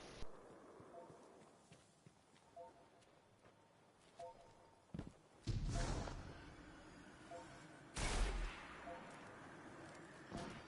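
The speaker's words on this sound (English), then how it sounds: "Somebody shooting at us." Gunfire in the shooter game Destiny 2: two loud, heavy bursts stand out above a quieter bed of footstep-like clatter and scattered game effects.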